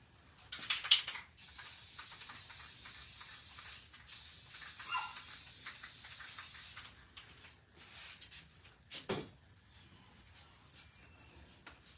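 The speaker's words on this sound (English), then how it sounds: "I'm going to spray it over here by the window" Long hissing bursts of Rust-Oleum aerosol top coat spray by a window door, several in a row with short pauses, fairly close, then a few softer clicks and shuffles.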